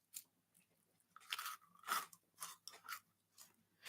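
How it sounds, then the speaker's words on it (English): Crunching and chewing on a frozen ice pole (Freezie), a series of sharp crisp crunch bursts separated by short pauses, fairly close but quiet, with no talk. "it's probably going to be really annoying while I crunch on this"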